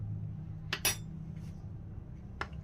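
A metal spoon clinks a few times against a container while stirring a powdered-milk mixture for homemade yogurt, sharp quiet taps over a low hum.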